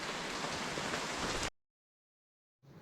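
Rain falls steadily over farmland as an even, hissing patter for about a second and a half, then stops abruptly into silence.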